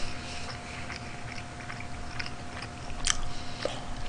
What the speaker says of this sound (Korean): 쩝쩝대지 마.